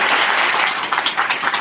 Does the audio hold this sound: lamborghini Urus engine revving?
no